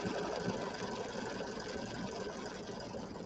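A home embroidery machine satin stitching the lines of a pumpkin design for a fall pillow, running as a steady fast mechanical whir and needle patter, close and continuous with no voices.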